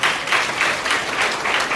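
An audience at a student motivational talk breaks into applause, moderately loud, with slightly pulsing swells of many hands clapping together.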